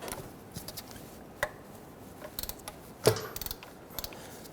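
Ratchet clicks and metallic creaks from a 13 mm socket ratchet loosening the oil drain bolt under a 2006-2010 Hummer H3, heard as a few sparse, faint clicks with one sharper snap near the middle, no voices.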